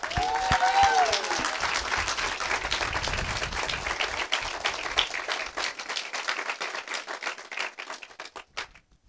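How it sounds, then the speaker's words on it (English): Guests at a wedding ceremony at Bracknell Lodge, Toowoomba, applaud warmly and close by, with dense clapping that starts full over a brief voice and gradually thins out into scattered claps. "Please join me in giving these two a hearty round of applause."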